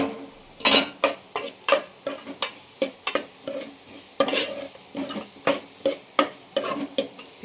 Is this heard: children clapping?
no